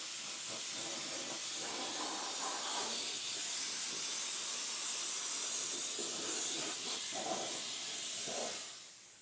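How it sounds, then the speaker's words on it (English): A steam cleaner hisses steadily inside a car, aimed at an interior door panel, producing a loud, continuous broadband rush that holds for several seconds before tapering off at the end. "Start up the steam."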